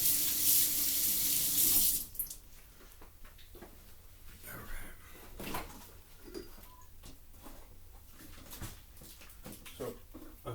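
A kitchen tap runs with a loud steady gush for about two seconds and then shuts off, followed by quieter clattering and handling sounds of washing up.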